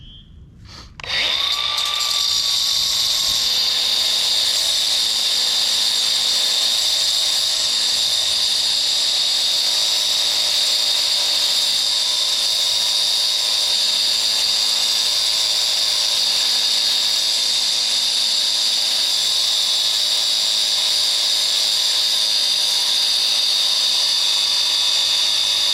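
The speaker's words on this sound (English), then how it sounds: "Here's the grinder." Grinder spinning up and running continuously for a patio roof build, a loud, steady high-pitched whine held close and alone for the whole stretch.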